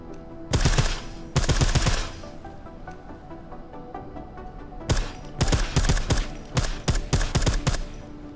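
Silenced gunfire in Deus Ex: Mankind Divided, sharp clattering bursts of rapid shots, two short volleys, a pause, then a longer string of bursts, close and loud.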